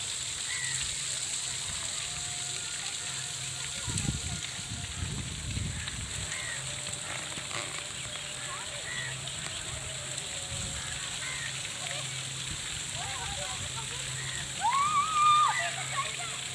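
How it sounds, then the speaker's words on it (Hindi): Water falls from pipes set above a waterfall in an outdoor spot, making a steady, moderately distant rush that runs the whole time. A few louder splashes and faint background voices come through on top. "ये देखिए ये ऊपर पाइप लगे हुए हैं और उनसे पानी नीचे गिरता है।"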